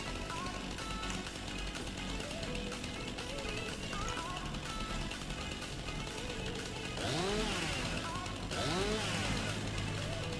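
Chainsaw in the farming game Landwirtschafts-Simulator 19 (Farming Simulator 19), a steady buzzing engine drone that runs throughout, with rising whistling tones and a louder surge near the end.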